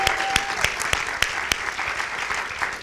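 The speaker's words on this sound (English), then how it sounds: "can we have a round of applause for all four of the student speakers?" An audience applauds four student speakers at an evening event: steady, moderately loud clapping with a few sharp, distinct claps standing out, and no talking over it.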